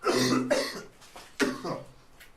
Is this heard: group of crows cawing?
no